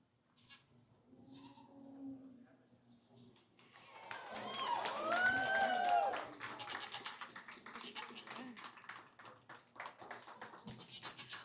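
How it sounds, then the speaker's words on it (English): Audience applause in a large dairy goat show arena, scattered claps swelling into steady clapping after a goat bleats and some voices are heard, continuing for several seconds. "please welcome them with a round of applause when I do"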